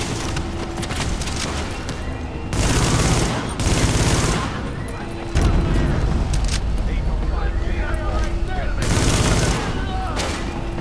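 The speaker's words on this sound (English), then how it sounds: "I missed the brunt of that explosion, which was good." Explosions and bursts of gunfire from the video game The Division, loud and continuous in combat, with heavier blasts rising in waves and a voice talking over them.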